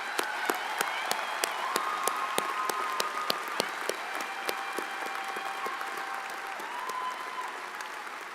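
Sustained applause from a university commencement crowd, dense clapping in a large hall with a few sharper claps standing out, fairly distant and even, faint cheering mixed in.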